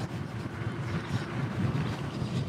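Steady buffeting headwind roar against the microphone while riding an Ecotric Rocket fat tire beach and snow e-bike at about 20 mph, a dense low rumble that stays loud and unbroken with no talk.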